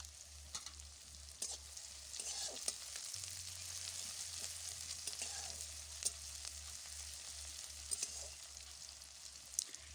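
Onion pieces sizzle and crackle steadily in hot oil in a pan, a continuous close, bright frying hiss with occasional sharper pops and stirring scrapes, with a low steady hum underneath and no talking.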